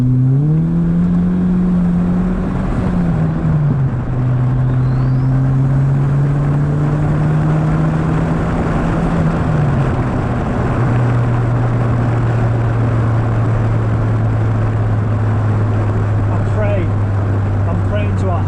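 A Renault 21 turbo from the 1980s pulls hard from about 3,000 RPM, its loud engine drone rising in pitch, briefly dipping at a gear change, then climbing steadily inside the cabin.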